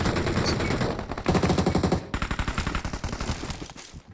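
Automatic gunfire in the PUBG Mobile (BGMI) battle royale game, with dense rapid bursts of loud shots in a sustained run, then a choppier stretch of separate rattling shots continuing to the end, with no talk.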